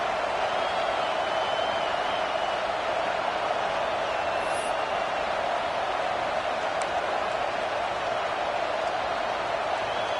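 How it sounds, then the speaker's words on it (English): A stadium crowd in a football video game keeps up a constant, even roar with no breaks, a dense wash of noise that fills the whole moment. "This crowd trying to do its part to get inside the kicker's head."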